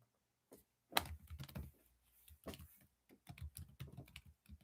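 Keys clack on a computer keyboard in irregular bursts of quick taps, near and fairly quiet, with short pauses between runs and no one talking.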